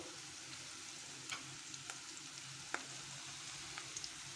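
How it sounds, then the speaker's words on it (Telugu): Chopped green chillies frying in hot oil in a pan for dal khichdi, a steady close sizzle with occasional light pops and clicks. "రెండు తరిగించుకున్న పచ్చిమిర్చి వేస్తున్నా అండి"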